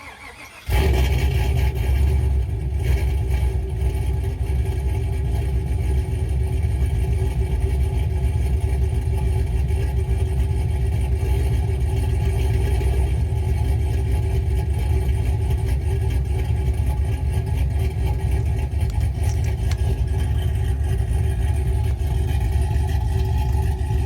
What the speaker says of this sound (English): get an idle video for y'all real quick